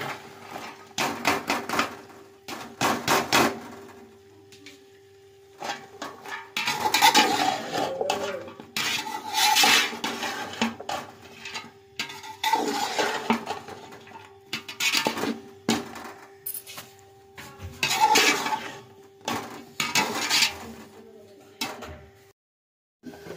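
Vegetables stirred in a frying pan in a home kitchen, heard as repeated metallic scraping and clattering of a utensil against the pan in uneven bursts, close and fairly loud, with a low steady hum underneath.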